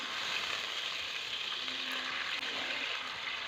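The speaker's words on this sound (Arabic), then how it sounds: "ومن بعد الدجاج تاعي يتقلى كيما هكا نبقى نخلط فيه شويه" Chicken pieces frying with onion in a hot pan, a steady dense sizzle filling the whole stretch with soft scraping of stirring underneath, close and even, no voices.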